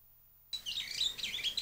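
Birds chirp and call in quick, bright bursts after a moment of silence, a lively run of close, fairly faint tweets with no voices.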